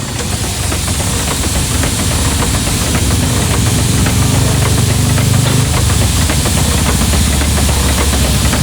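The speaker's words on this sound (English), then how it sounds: "Oh, here's the engine sound." A loud engine runs continuously with a rough knocking rumble and a hissing, vibrating texture, steady throughout and close by.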